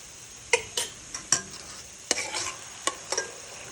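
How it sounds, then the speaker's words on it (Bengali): Cumin paste and garlic paste fry in a pan for a duck curry, a soft background sizzle broken by several sharp spoon-on-pan scrapes and clinks as it is stirred. "রসুনের জিরাটা একটু রসুন জিরা পেঁয়াজ দেবেন, একটু কষিয়ে নিই"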